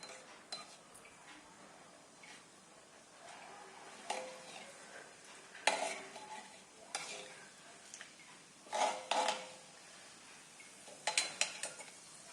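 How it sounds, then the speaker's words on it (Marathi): Cumin and mustard seeds crackle in hot oil in a pan, giving quiet, irregular bursts of popping and spattering. Faint utensil clinks sound between the bursts, with no voices. "जिरं घालते. तडतड होईपर्यंत थांबायचे आपण."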